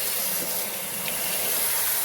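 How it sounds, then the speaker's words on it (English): Steady rushing hiss of fresh water from a hose filling a car's rocker panel to flush out silt. The flow is close and continuous, with no pauses and no voices. "What we're doing, we're filling up the rocker panel with fresh water."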